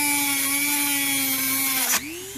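A power drill cuts through metal screws on a costume back rig, throwing sparks: a loud, steady high-pitched whine that drops in pitch as the bit bogs down near the end, then spins back up.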